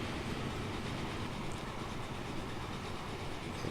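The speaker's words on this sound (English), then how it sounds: "Where's my wood train? Way over here." Wood-hauling train in the Transport Fever game: a steady rumble of rolling rail cars with faint clickety-clack, fairly quiet and continuous.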